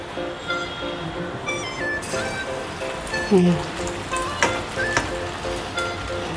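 Hot oil in a pan gives a steady, close sizzle and crackle, like rain on a surface, as it is tested before frying sabudana vada. A few small pops and clinks sound over the sizzle.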